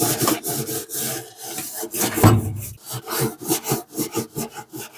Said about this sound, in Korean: 아래쪽 부분부터 구석구석 때들이 남아있지 않도록 문질러 주세요. 지금은 기름때를 제거하는 작업입니다.